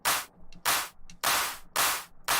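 Shortened, high-passed synthesized claps built from pink noise in Phase Plant, four loud bright bursts about 0.6 seconds apart with faint softer flutters between them, dry and close.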